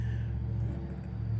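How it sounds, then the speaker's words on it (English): A motorcycle with a loud, race-car-like exhaust rumbling past on the road, a steady low drone that holds for the whole moment without breaks. "I thought that was a motorcycle"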